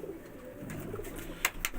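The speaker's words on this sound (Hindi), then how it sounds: "ये देखें ये कबूतर हैं" Pigeons being handled by a breeder give a soft low cooing murmur, faint and close, with a couple of brief rustling flaps near the end.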